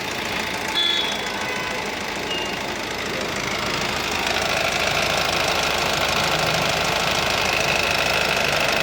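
A 2018 Honda WR-V i-DTEC diesel engine runs at a steady idle, a constant close, loud, slightly knocking clatter with no pause and no voices.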